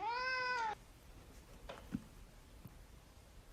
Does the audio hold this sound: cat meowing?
yes